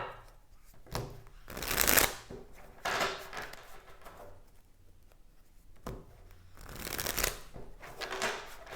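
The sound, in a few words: shuffling tarot cards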